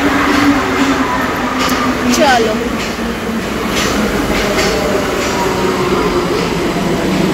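Metro train arriving at Park Street station, a sustained rumble and rising wheel whine filling the platform, with a short voice briefly heard over it.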